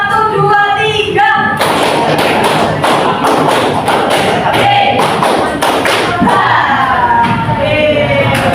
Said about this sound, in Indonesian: Lagi tepuk 1,